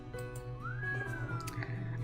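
A single rising and falling whistle in a visual novel video game, faint and brief over a steady hum of background music.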